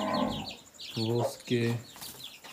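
Hen clucking with chicks nearby, a few short repeated clucks in two or three bursts, fairly close, with someone talking over and between them.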